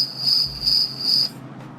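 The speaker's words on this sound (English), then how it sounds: "why do I get crickets?" Soundboard cricket chirps ring out in three even high-pitched trills, crisp and prominent against a quiet background, then stop abruptly.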